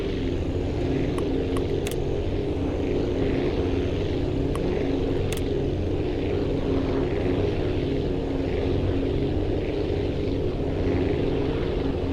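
A propeller aircraft engine drones steadily in the flight game Aviassembly as the plane banks hard toward a runway, a continuous broadband roar at constant loudness with no talking.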